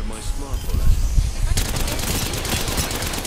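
Gunfire in the Apex Legends video game, including a smart-bullet weapon: dense, rapid crackling shots burst in partway through and keep going steadily, layered over game noise, with a voice talking briefly early on.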